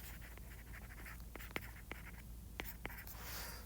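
A pen drawing a graph axis on paper, giving soft scratchy strokes with a few brief sharper taps, quiet and close with no talking.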